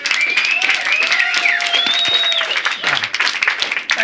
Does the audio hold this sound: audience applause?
yes